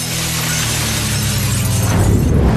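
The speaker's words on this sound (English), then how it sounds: "So they just smashed the window and took it." Window glass smashes with a loud, sustained shattering crash that fills the whole moment, no voices over it.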